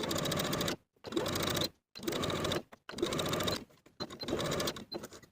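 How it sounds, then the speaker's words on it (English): A sewing machine runs long basting stitches around the bottom of a sleeve for a V-neck boho top. It whirs loud and close in steady bursts, each cut off by short pauses. "I'm going to start my stitching at the seam, sew all the way around, and stop my stitching on the other side of the sleeve"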